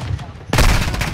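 Gunfire erupts in Call of Duty: Modern Warfare II, a loud, dense burst of automatic shots beginning abruptly after a quieter opening and continuing as sustained rapid fire close by.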